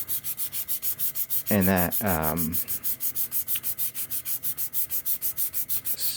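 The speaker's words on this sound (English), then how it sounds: "one good way to check out how things are looking is take a bit of sandpaper and just go over everything" Sandpaper rubs back and forth over a wood carving in a steady, even rhythm of close scratchy strokes, briefly interrupted by a voice.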